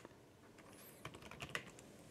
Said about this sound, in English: we'll type sudo systemctl set default multi-user.target